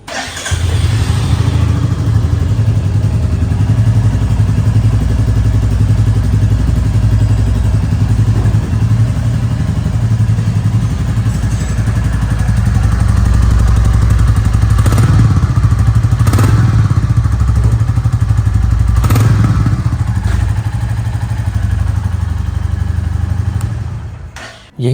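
A new 2026 Royal Enfield Classic 350 motorcycle idles loudly and steadily up close, its single-cylinder thump punctuated by a few short throttle blips before the engine cuts off at the end; no voices.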